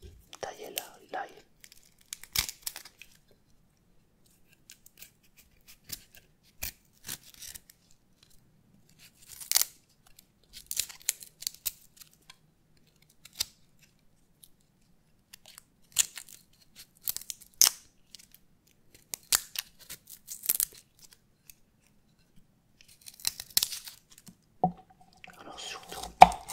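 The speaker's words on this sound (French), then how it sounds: "Je vais en profiter pour tailler l'ail." Garlic cloves are cut up on a board in a quiet kitchen while a curry sauté is being made, giving sparse, crisp knife taps and small crunchy slices in irregular bursts, close and soft. Someone whispers at times.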